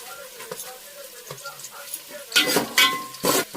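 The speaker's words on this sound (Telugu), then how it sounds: "ఇవైతే లైట్ గా ఫ్రై అవ్వాలి." Onion, green chillies, potato and carrot fry lightly in a pan, with a soft sizzle under scraping stirs and louder clattering bursts of utensil against pan toward the end; no talking.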